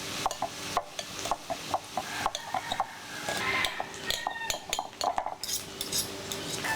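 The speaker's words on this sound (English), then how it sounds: "I'm going to shred the jackfruit" Cooked jackfruit is shredded in a pot with a utensil, giving irregular scraping and clinking strokes against the metal, close and moderately loud, with a faint sizzle underneath.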